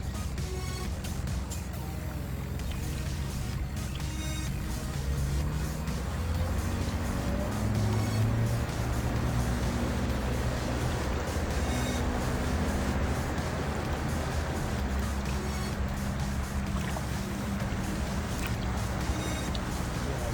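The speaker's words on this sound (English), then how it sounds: "A couple boats passing us." A couple of motorboats pass a paddler on open water, a continuous low engine drone and wash rumbling steadily for about twenty seconds, moderately loud with no clear peak as they go by.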